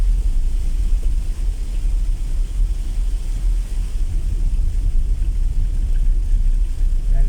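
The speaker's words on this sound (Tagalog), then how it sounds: "may bagyo po" Storm wind and rain buffeting a rider on the road, a dense continuous low roar of gusting wind and rushing noise, steady and loud, with no talk.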